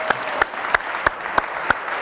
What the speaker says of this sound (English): Let's give Mike one more round of applause